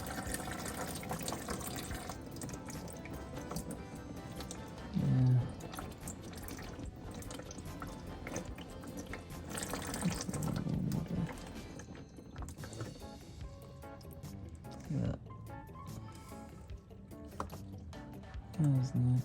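Water pours and drains out of a new Audi engine's oil, a steady liquid stream and trickle with occasional drips and louder gushes, while people talk over it.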